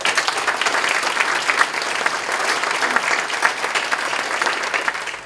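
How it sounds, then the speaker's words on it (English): A crowd at a children's courage awards ceremony claps steadily and fairly loudly for young award winners, a dense sustained round of applause with no speech over it. "Can we give them another round of applause?"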